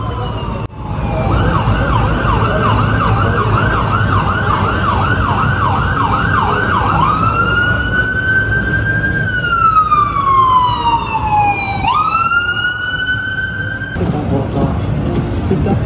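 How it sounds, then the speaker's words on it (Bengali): An ambulance siren cuts through a Times Square street in New York City at night, loud and close, cycling rapid yelps before sliding into long rising and falling wails over steady traffic rumble, with voices briefly heard. "এটা আবার কিসের আওয়াজ অ্যাম্বুলেন্স বোধ হয়"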